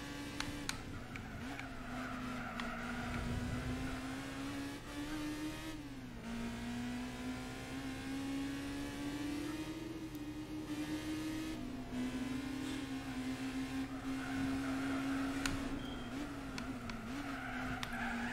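A Honda S2000 race car in Gran Turismo 4 revs hard through its gears, a loud, steady high-pitched engine drone rising and dipping with shifts, with bursts of tire squeal from cornering and no voices.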